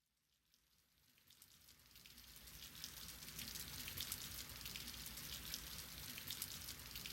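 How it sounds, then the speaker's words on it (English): Rain pattering outside in the visual novel Mahoyo: Witch on the Holy Night, a soft hiss of drops fading in from near silence and settling into a steady, faint drizzle. "At some point, the rain outside pattered into the drizzle."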